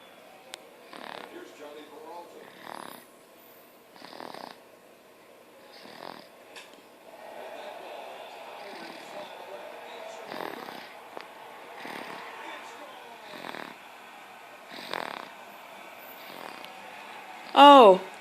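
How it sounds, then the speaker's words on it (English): A person sleeps and snores in slow, regular breaths, each soft rasping pull repeating every second or two, close by and quiet, with a TV baseball broadcast murmuring faintly in the background. "And she is snoring."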